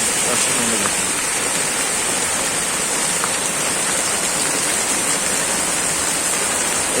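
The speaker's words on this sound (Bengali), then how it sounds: "বৃষ্টি হচ্ছে তো হচ্ছে তুমুল বৃষ্টি" Heavy, nonstop monsoon rain pours down as a dense, loud, even hiss that fills the whole stretch without letting up.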